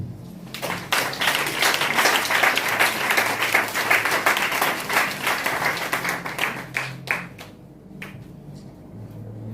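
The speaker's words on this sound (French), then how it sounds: "On acclame le Seigneur" A church congregation breaks into sustained applause, dense and loud for several seconds, then thins out into scattered claps before a quiet end.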